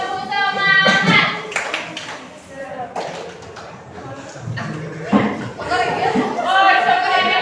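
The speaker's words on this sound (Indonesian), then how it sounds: "Ini lagi tepuk semangat." Classroom of students doing a rhythmic spirit clap (tepuk semangat) in Indonesia, patterned bursts of group clapping mixed with children's voices and chatter throughout.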